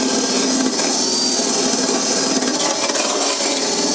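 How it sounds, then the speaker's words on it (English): A grinder works back rusty, twisted car sills with a harsh, steady, loud metallic rasp that runs unbroken throughout. "But I'm going to have to grind it back because look at it."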